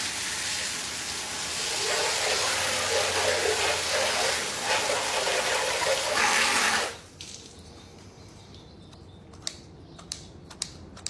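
Fresh water pours steadily into a bird bath for about seven seconds in a broad splashing hiss, then stops, leaving faint quiet with a few small clicks.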